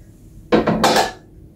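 AMC metal cookware lids and pots clank together in a quick burst of two or three bright, close knocks and rattles.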